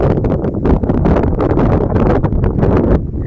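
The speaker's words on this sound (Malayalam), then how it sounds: "നല്ല കാറ്റുണ്ട് ഗൈസ്." Steady, loud wind roars and buffets against the microphone throughout, a continuous rushing gust with no voices, on the Paithalmala hilltop.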